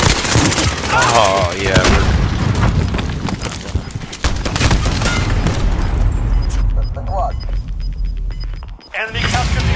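Gunfire in the video game Call of Duty Modern Warfare 2 during a Halloween special event match, dense bursts of shots and booms layered with game sound effects, loud and continuous, with a voice speaking briefly.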